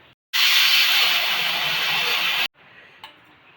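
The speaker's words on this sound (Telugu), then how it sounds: "4 విజిల్ వచ్చింది." A pressure cooker vents a strong, steady hiss of steam for about two seconds, a single close whistle release cooking a horse gram and vegetable khichdi, then cuts off abruptly to quieter background.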